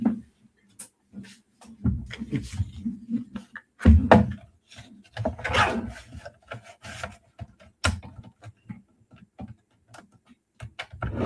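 A paper card is trimmed down with close, scratchy rubbing and slicing strokes in irregular bursts, broken by a few sharp ticks and soft knocks.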